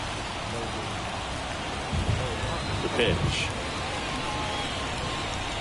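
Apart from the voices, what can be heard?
rain falling on a baseball stadium in MLB The Show 24 video game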